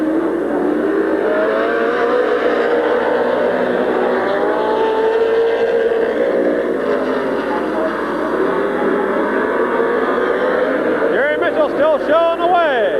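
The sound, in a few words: stock cars racing at Midvale Speedway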